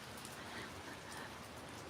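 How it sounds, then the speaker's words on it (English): Steady rain falling in a backyard on a cold, windy autumn day, a soft even hiss of drops with no voices. "It's raining and it's windy."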